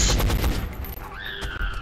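Gunfire from the video game XCOM: Enemy Unknown, a loud rapid burst of shots that fades into an electronic tone, with no talking.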